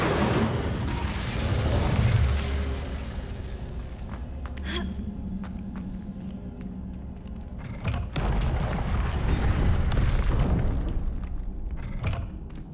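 Incendio fire spell cast in the Hogwarts Legacy game, a loud whooshing burst of flame with booming thuds, followed by crackling impacts and another roaring blast.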